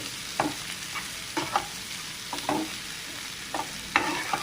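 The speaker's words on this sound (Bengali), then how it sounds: "পেঁয়াজ, রসুন, কাঁচা ঝাল কুচোয় নিলাম, ভাজি একটু ভেজে নিচ্ছি।" Chopped onion, garlic and green chili frying in a pan, a soft steady sizzle broken by several short scraping stirs of a spatula at an uneven rhythm, close by.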